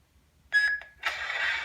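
A short electronic tone with a couple of blips as an MK Sabers NB3 toy lightsaber changes sound bank, then a bright whooshing electronic boot hum rises and holds, near and clear with no talking.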